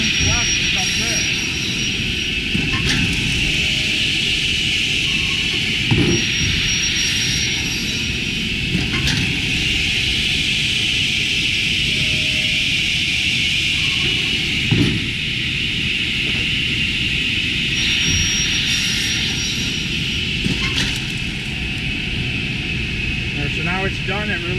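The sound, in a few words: panel saw cutting a board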